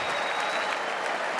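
A crowd at a political rally applauds and cheers in a dense, steady wash of clapping with no break.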